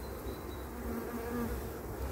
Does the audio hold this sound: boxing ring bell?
no